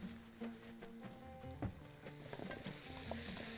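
Onion and potatoes with spices frying in a pan as they are mixed, a quiet continuous sizzle with soft scraping stirs and clinks, a faint tone running underneath.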